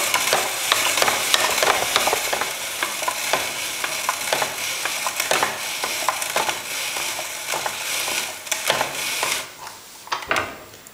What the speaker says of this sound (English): we're just going to go ahead and spiralize this zucchini